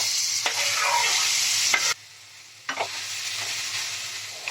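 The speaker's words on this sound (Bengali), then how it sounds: "তেলটা গরম হয়ে গেছে এবার আমি এতে আমটা ছেড়ে দিলাম" Mango pieces hitting hot oil for a pickle give a loud, close hiss with spatula scrapes. The frying sound drops out briefly, then the sizzling and stirring return.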